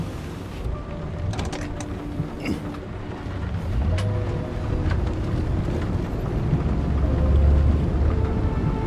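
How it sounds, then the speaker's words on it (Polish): Vehicle engine starting in the video game Nobody Wants to Die, a low rumble building steadily from quiet clicks into a loud sustained roar over several seconds, no talking. "Odpalamy silnik."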